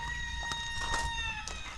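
A chicken, likely a rooster, calls faintly in the background of a yard where a broken van is being repaired, with steady low rumble underneath and no talking.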